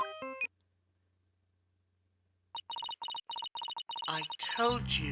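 A ringing phone in the courtroom game Phoenix Wright: Ace Attorney Dual Destinies plays as a run of evenly spaced electronic beeps after a brief jingle and a silent pause, followed by a louder burst of game sound at the end.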